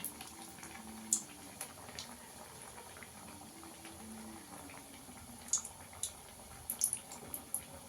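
Potato chops frying gently in oil over a low gas flame, a soft bubbling simmer with scattered small pops and crackles, fairly quiet and close.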